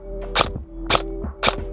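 Three sharp airsoft gun shots firing BBs, evenly spaced about half a second apart, close and loud over a steady low hum.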